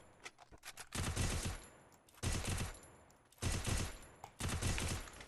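Automatic gunfire in a shooter video game while aiming down sights, four separate sustained bursts of rapid shots separated by short pauses, close and punchy.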